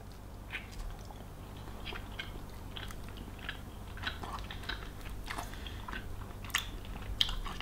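Biting and chewing a Maxi Muscle salted caramel protein bar, with close, soft crunches and sticky chewing sounds repeating irregularly.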